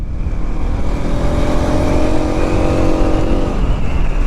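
A 200cc motorcycle engine hums steadily while riding along a mountain road by a river, loud and close with constant wind and road roar and a slight rise in pitch.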